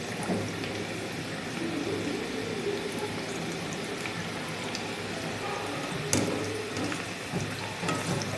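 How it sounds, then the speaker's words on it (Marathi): Onion bhaji fries in hot oil in a kadhai with a steady, close sizzle and occasional sharper pops and crackles. "तेल आपलं गरम झालं आहे, आपण आता भजी सोडून घेऊ"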